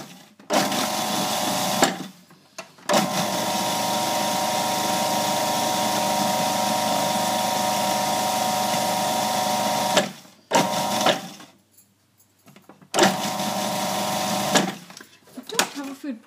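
Food processor pulsing biscuits into crumbs, several loud whirring bursts of varying length separated by short pauses, with a voice heard.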